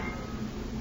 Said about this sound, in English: Hey, that train's coming, look.